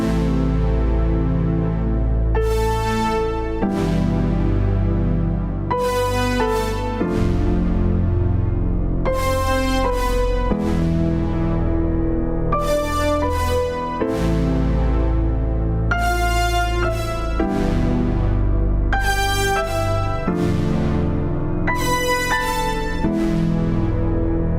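Piano phrases played through a MIDI key-sensor device play continuously, bright repeated chords and runs recurring in regular bursts over sustained lower notes.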